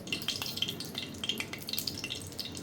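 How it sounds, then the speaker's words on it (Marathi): Green gram flour roasting in ghee in a wok, a faint, steady sizzle with small crackles and soft stirring scrapes, heard alone without talk. "तर ह्याच कढईत मी अजून 3-4 चमचे तूप घालते आणि आपल्याला ह्याच्यात मुगाचं पीठ भाजून घ्यायचं आहे।"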